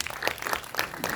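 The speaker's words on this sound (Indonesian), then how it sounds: "boleh kita berikan tepuk tangan?" A short burst of audience applause at a film press conference, a room full of hands clapping together at moderate volume for about a second.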